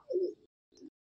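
An old Madrasi pigeon gives two soft, close coos: a longer throaty one followed by a brief second one after a short pause, in otherwise quiet surroundings.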